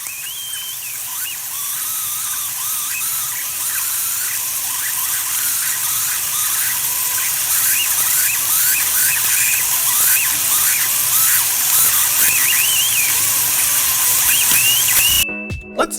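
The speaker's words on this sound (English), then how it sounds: "They actually hear a sound emanating from the damn vegetable" High squeaky chirps and whistling squeals, recorded from a vegetable being cut, flutter over a steady hiss, continuing for a long stretch before cutting off abruptly.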